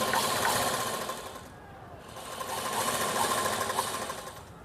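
A sewing machine runs steadily while stitching a top made from leftover fabric, a continuous close, even whir with a brief dip in pace before it speeds up again.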